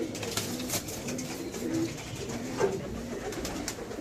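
Pigeons, part of a flock of over 700, coo softly in low, rolling calls amid a busy background of rustling and flapping, with no talking.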